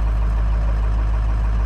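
A Ford Powerstroke 6.0 diesel engine idling, a loud, steady, low rumble that holds constant throughout with no talking.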